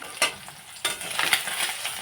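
Spices and garlic frying in a pan for a Bengali tangra fish curry, a soft steady sizzle broken by a few louder scraping stirs near the start and middle.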